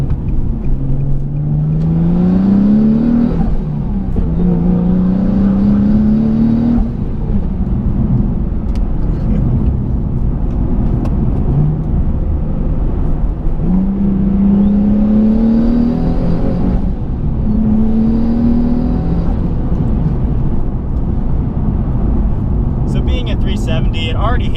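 Twin-turbo Nissan 370Z NISMO making about 650 wheel horsepower, accelerating hard past 3,000 RPM toward redline, with rising engine tones climbing through repeated gear pulls under steady rumble, while someone talks throughout.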